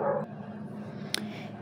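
A dog barking and whimpering indoors: one brief yelping bark at the start, then a sharp short yip a second later, moderately near over a low steady background hum.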